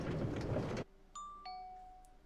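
In a video game, a station's underground bell circuit greets arrivals with a chime. A noisy burst cuts off abruptly, then a clear bell tone rings, followed by a second ringing tone, both fading slowly.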